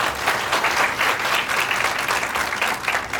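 Conference attendees at a social science event break into a sustained round of hand clapping, a full, even wash of applause from a crowd throughout.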